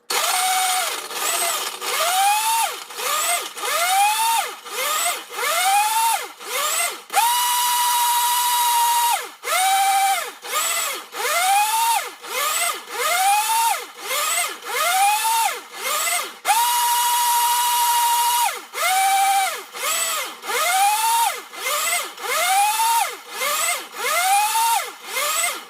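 A blender whirs through oats milk with ice cubes and purified water in repeated short pulses, its motor whine rising with each burst, broken by a few longer steady runs, loud and close with no talk.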